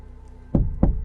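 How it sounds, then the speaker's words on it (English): Two sharp knocks on the outside of a pickup truck with a canopy, parked on a forest road, close and loud, about a quarter second apart, against a quiet hum. "He's literally knocking on my truck."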